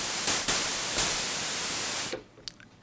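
The noise generator of a Black Corporation Deckard's Dream MK2 synthesizer gives a loud, steady hiss of broadband static for about two seconds, with a few brief bursts, then cuts off to near silence and small clicks.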